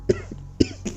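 A man coughs twice, sharp and close, with a short gap between the coughs and a smaller cough or throat rasp after the second.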